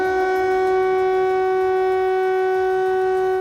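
A steady, loud air raid siren in a Ukrainian city holds one sustained pitch without rising or falling, droning continuously with faint background noise.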